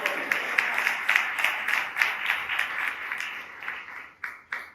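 A church congregation claps in steady rhythmic unison, loud and close, a string of sharp even claps that ends in a couple of final claps.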